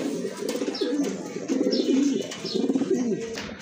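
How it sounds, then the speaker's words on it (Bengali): Large pigeons cage-kept for sale coo close by in repeated soft, throaty rolling calls, several in a row, with faint background noise. "অনেক বড় সাইজের এক জোড়া কবুতর, কোয়ালিটিফুল কবুতর।"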